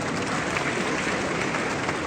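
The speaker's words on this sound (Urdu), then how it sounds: "تالیاں بجا." A crowd at a live Anwar Maqsood stage show in Toronto applauds with steady, dense clapping that stays level throughout the short stretch.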